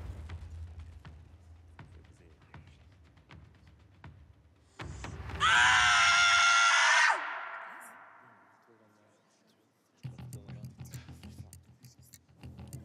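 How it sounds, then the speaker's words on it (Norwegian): A person lets out a long, loud scream of anger in a competition, harsh and piercing for about two seconds, then tails off. Quiet scratching and rustling come before and after it. "Jeg skriker, og jeg føler at jeg klarer å dytte litt sånn sinne inn i skriket."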